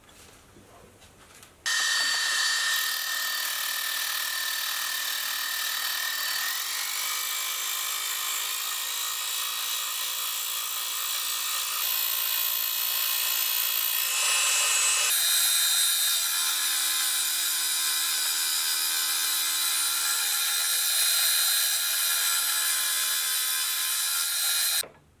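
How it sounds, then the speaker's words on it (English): A milling machine running as a makeshift grinder while machining steel V-blocks gives a loud, steady high-pitched whine with a harsh gritty edge that starts abruptly, holds for about twenty seconds with a slight shift midway, then cuts off. "I am going to be using the mill as a makeshift grinder again"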